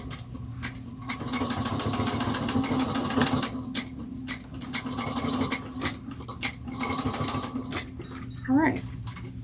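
Sewing machine top stitching fabric at an eighth-inch seam allowance, running in steady bursts of rapid needle clatter with short pauses between runs, close and fairly loud.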